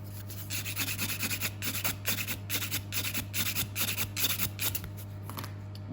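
An acrylic nail is filed with a steady rasping scratch in quick repeated strokes. The sound is close and fairly quiet over a constant low hum.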